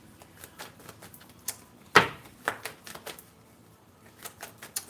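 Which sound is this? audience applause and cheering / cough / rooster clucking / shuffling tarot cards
shuffling tarot cards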